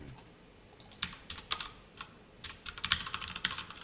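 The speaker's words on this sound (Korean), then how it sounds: "홍길동 써볼게요" Keystrokes on a computer keyboard while entering a value into a MariaDB query, coming in short scattered bursts of clicks at close range with no talking.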